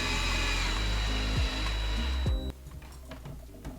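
A power drill drives a screw into a wall stud while a shelf is mounted. The motor whirs loudly for a couple of seconds, bogging briefly under load, then stops, leaving faint handling noises.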